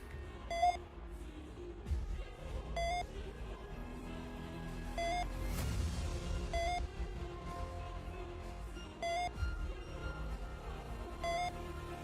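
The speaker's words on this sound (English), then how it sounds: "I'm trying to deliver the beeps as fast as possible" Short electronic beeps from the video game Moraff's Dungeon of the Unforgiven repeat at roughly two-second intervals, quiet and bright over a low, murky background.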